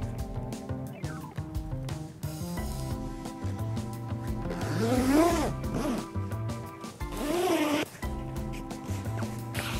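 A zipper on a polycotton teepee tent is worked to attach a tent section, giving repeated close rasping zips with short pauses, including two longer drawn-out pulls.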